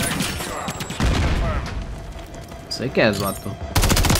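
Gunfire in the video game Modern Warfare III, dense bursts and booms running under the talk throughout, with a loud burst near the end; someone speaks over it.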